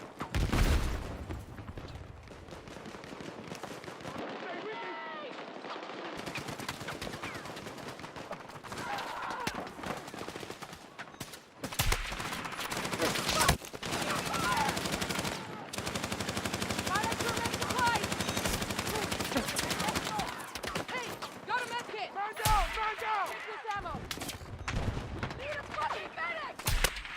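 Rapid machine-gun fire and bursts of gunfire in a first-person shooter video game, loud and nearly continuous with brief pauses, mixed with game sounds and a voice shouting over the shooting.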